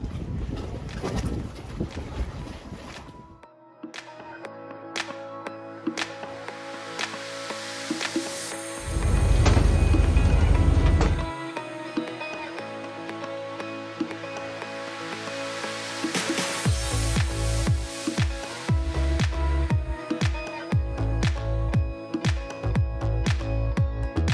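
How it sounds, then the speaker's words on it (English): A ferry carries passengers between the Sicilian volcanic islands of Salina and Panarea. A steady engine rumble and hull noise run under heavy wind buffeting against the microphone, with louder gusts and splashing bursts coming and going. "we're about to jump on the ferry, and it's about a 15-minute ride"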